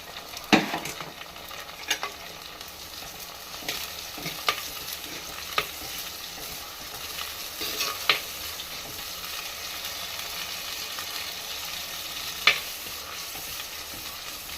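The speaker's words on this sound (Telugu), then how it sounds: "ఇప్పుడు టొమాటో అండ్ పచ్చిమిర్చి రెండు ఒకేసారి వేసేస్తున్నాము" Tomato and green chilli fry with softened onions in a pan for a home-style chicken curry, giving a steady, close sizzle with occasional clinks and scrapes of a stirring spoon.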